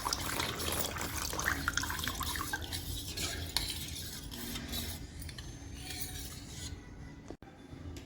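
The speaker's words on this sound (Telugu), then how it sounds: "ఇప్పుడు దీంట్లోకి తగినంత వాటర్ పోసేసుకోండి." Water pours into a pot of buttermilk soup, a steady close-up rush and splash of liquid running for several seconds with faint stirring and clinks, ending with a brief knock.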